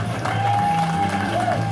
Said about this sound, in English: Ladies and gentlemen, having a nice round of applause for our best man